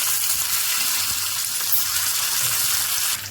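Curry leaves dropped into hot oil already tempered with mustard seeds, cumin and dried red chillies, with the gas just switched off, give a steady, close, loud crackling sizzle that holds for the whole stretch with no talking.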